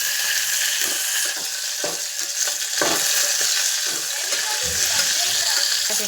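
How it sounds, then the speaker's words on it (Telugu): Green chillies frying in a pan for peanut chutney: a steady bright sizzle with repeated scraping and clinking as a spatula stirs them, close and continuous. "మిరపకాయలు ఇలా కలుపుకోవాలి, బాగా వేగించాలి."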